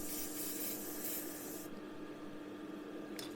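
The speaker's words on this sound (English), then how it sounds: "quick test spray" A quick test burst of paint from a spray can onto a Revell 1/48 PBY-5 Catalina model kit, a soft steady hiss that stops partway through, close and quiet.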